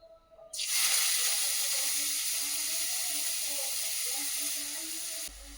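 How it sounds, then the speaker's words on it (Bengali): Cabbage drops into hot white oil in a wok and erupts into a loud, steady sizzling hiss that holds evenly for several seconds before cutting off, close by. "আগে বাঁধাকপিটা ভেজে নেব"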